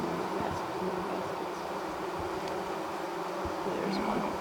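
Honey bees buzz around a hive where workers return with yellow pollen loads, a faint, steady hum of many insects with scattered nearby wingbeats and low background noise.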